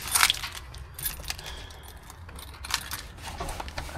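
A bunch of house keys jangles and clinks up close in bursts of metallic rattling, with a faint low background rumble.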